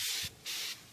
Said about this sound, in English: Then we're going to just spray the tire with some clear water.